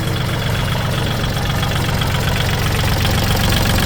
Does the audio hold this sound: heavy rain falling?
no